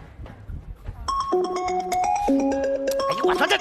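A mobile phone rings on stage during a comedy sketch, a loud, bright electronic ringtone melody of stepped notes that starts after a moment of murmured voices and keeps playing to the end.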